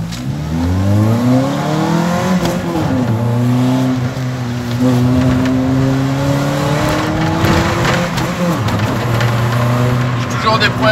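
Renault Megane low-cost track car engine revving with an ignition fault, loud and close, rising and falling in pitch with uneven stuttering moments over about eleven seconds.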